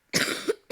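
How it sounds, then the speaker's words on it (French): A sick young woman coughs once, a close, rasping burst with a short wheezy tail, followed by the start of another cough. "je suis malade, donc du coup, j'arrête pas de tousser"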